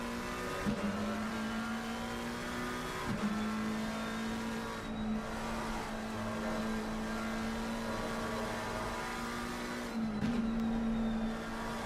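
Race cars, BMWs among them, lapping Watkins Glen in a sim racing game, a steady loud engine drone with gear-shift dips and sustained revving, holding close and continuous throughout.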